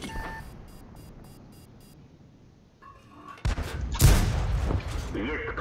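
M18 Hellcat tank gun firing in a war video game: a quiet stretch with beeps, then loud booming shots and explosions rising near the end over game noise.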